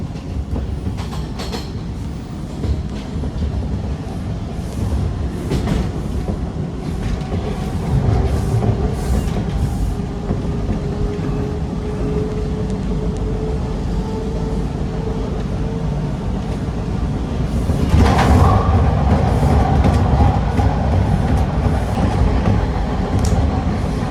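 A Toronto TTC subway train runs between stations, heard from inside as a loud, steady rumble with wheel clatter. Around the middle it builds into a brighter rising screech.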